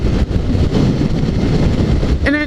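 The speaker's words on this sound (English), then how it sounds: "It's so quiet, the only thing I can hear is wind." Wind roars steadily past a rider on a quiet electric motorcycle cruising at highway speed, with a loud broadband rush and no audible engine note.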